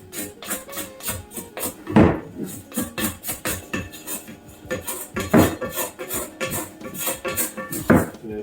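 A plastic bench scraper scrapes baguette dough and flour off the sides of a bowl, giving repeated close scraping and knocking strokes in an uneven rhythm.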